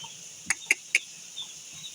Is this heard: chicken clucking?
yes